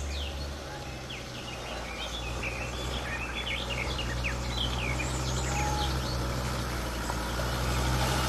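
Bird calls in an outdoor setting, a series of short high chirping and whistling notes resembling a parrot, repeated throughout over a steady low rumble of traffic, with no clear talk.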